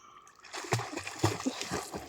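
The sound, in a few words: fishing net cast into water, splash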